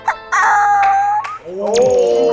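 A voice mimics a sad, distressed chicken with a loud, drawn-out squawk that bends in pitch, then a wavering distressed cry, close and alone.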